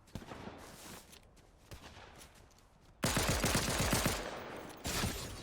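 Gunfire crackles in a Fortnite match, faint sporadic shots at first, then a sudden loud, rapid burst of repeated shots that keeps going for a couple of seconds, with another burst near the end.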